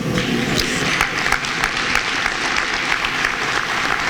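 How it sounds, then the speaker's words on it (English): A crowd at a senator's speech claps steadily and enthusiastically throughout, a dense, continuous wash of applause at fairly close range. "yes, that's worth applauding."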